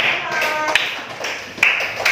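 A school class applauds in a short burst of hand clapping, close by, with a few sharper claps standing out near the end.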